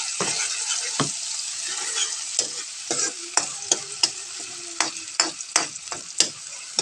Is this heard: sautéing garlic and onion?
yes